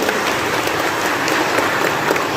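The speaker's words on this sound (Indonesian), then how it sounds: "Mohon tepuk tangannya Bapak Ibu." Parents and staff at a school meeting clap together, a dense, even wash of applause with no break across the short stretch.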